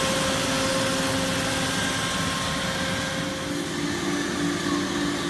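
A MultiCam MG-204 CNC router with a 5x10 table runs steadily, a continuous high-pitched spindle whine over a broad rushing hiss, close and constant with no talk.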